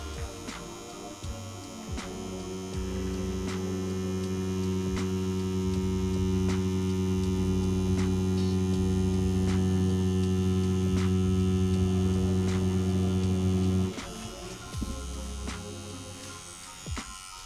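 A cheap beginner tattoo machine fitted with a 5-round liner needle runs at a steady electric buzz, close and continuous for about twelve seconds before cutting off, with faint handling noises around it.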